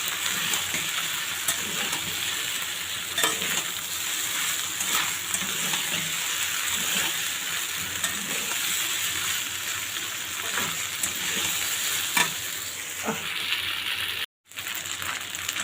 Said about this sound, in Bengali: ভালোভাবে নেড়ে দিই